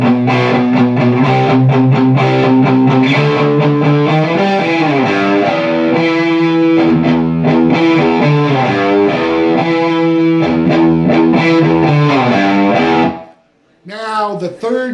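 Distorted electric guitar plays the heavy intro riff of a song, thick sustained chords and bending notes loud and close, stopping near the end before a brief resumed phrase.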